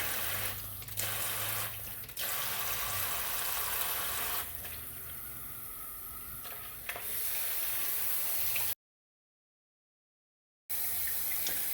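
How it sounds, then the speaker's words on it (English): Water from a newly installed single-handle kitchen faucet runs in a steady hiss under some handling noise, then cuts off abruptly and starts again near the end. "So we'll turn on our faucet"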